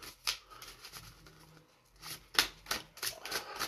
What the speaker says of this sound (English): You know me, I've got to shuffle these.